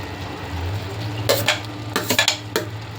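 Chopped onion, tomato and curry leaves go into a hot pan: a few quick metallic clinks and scrapes of a spoon against the pan over a faint sizzle, close and brief.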